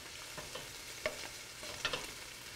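Ingredients fry in a pan for Bolognese sauce, a faint continuous sizzle with a few soft crackles and light clinks spread through the brief stretch.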